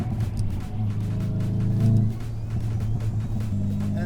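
A Hyundai i30 N's engine and exhaust drone loudly and steadily throughout, with a deep, buzzing note that swells briefly before settling back to a sustained rumble, close and continuous with no talking.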